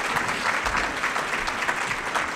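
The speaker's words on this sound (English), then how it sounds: "I think they deserve a round of applause." An audience at a public schools state-of-the-district address gives dense, steady applause with no voices over it.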